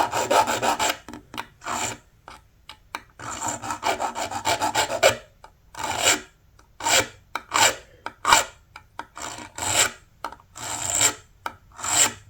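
Metal file rasping across the fret ends of a 7-string bass guitar neck, removing burrs after a fretless-to-fretted conversion; repeated close strokes in bursts with short pauses, no talking.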